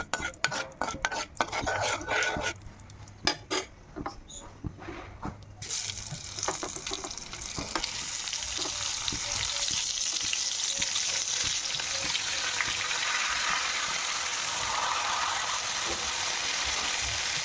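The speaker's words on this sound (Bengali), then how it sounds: "এবারে কিন্তু তেলের মধ্যে অর্থাৎ চিংড়ি মাছ ভাজার যে তেলটা রয়েছে তার মধ্যে আমি ভেজে নেব" Eggplant slices rubbed with salt and turmeric fry in oil left over from frying prawns, giving a steady, fairly loud hiss that sets in after a few seconds of scattered clicks and knocks.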